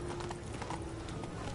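Roach the horse gallops in The Witcher 3 over about a second and a half of hoofbeats, soft and blurred under steady ambient noise.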